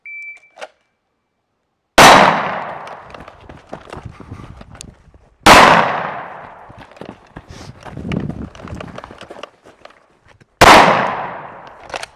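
Three loud, sharp pistol shots hit steel targets several seconds apart, each followed by a metallic ringing decay and scattered clatter and movement between shots.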